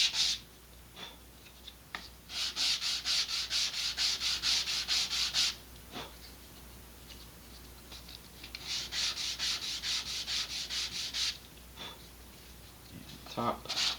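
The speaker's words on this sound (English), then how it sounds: "I am going to again sand off the burrs." Burrs are sanded off cut Estes model rocket fins in two bursts of quick, rhythmic back-and-forth scratching strokes, close and crisp, separated by a short pause with small taps.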